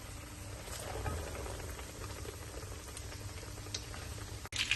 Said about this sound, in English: Now we'll put the meat in the frying pan for 10 to 15 minutes.